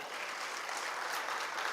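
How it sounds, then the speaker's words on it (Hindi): Loud, steady applause from an audience at a Voice Of Media gathering, a dense wash of clapping hands that fills the whole moment with no voices over it. "जोरदार तालियां आप बजा दें"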